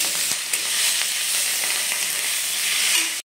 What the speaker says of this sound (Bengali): তার মধ্যে দিয়ে দেবো শুকনো লঙ্কাগুলো।